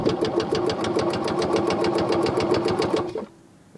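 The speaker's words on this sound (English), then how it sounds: "It cranks over, but kind of hesitates a little bit, so we'll have to see how this thing runs." A Harley Davidson golf cart engine cranks over steadily with a fast, even chugging rhythm, slightly hesitant, for about three seconds before cutting off abruptly into quiet.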